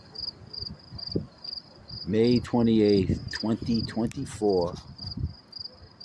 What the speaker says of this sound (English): Sounds of the crickets chirping.